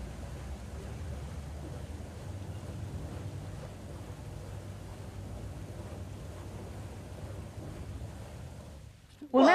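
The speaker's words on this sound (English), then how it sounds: "Or a water wheel like this." A water wheel turns through water, giving a continuous churning rush that holds steady for most of the stretch before a sudden louder burst right at the end.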